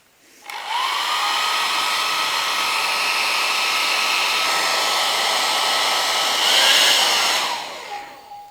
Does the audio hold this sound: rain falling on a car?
no